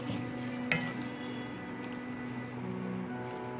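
Chili garlic sauce mixture being stirred in a pan for chicken Manchurian, a steady soft sizzle with scraping spoon strokes and one sharp clink near the start, no voices.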